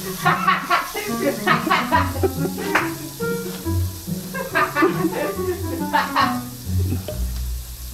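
Paneer frying in oil on a tawa gives a crackling sizzle with stirring taps, heard under the voices of people talking nearby.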